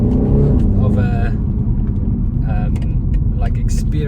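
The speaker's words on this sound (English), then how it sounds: "this car is very, very fun to drive" A BMW 128ti drives along the road, a low engine rumble and road noise running steadily beneath a voice that talks throughout.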